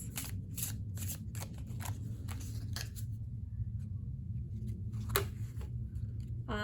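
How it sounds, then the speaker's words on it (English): Overhand shuffling of a smooth, slick tarot deck, heard close and quiet as a series of quick soft riffling bursts with short pauses between them. "The overhand shuffle, that's nice."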